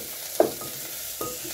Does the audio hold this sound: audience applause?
no